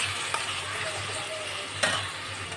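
Ginger, garlic and chilli paste being stirred in a frying pan: a continuous oily sizzle broken by a few sharp scraping clicks of the spoon against the pan, close and fairly quiet.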